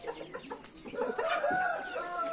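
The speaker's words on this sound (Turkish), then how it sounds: "şu horozu da bir gösterelim" A rooster clucks and calls briefly up close, a short burst of fowl sounds with a faint background.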